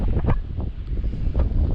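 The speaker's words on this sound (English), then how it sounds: "very windy" Strong wind blows across a dairy farm, gusting roughly against the microphone in a steady low rumble with no other sounds.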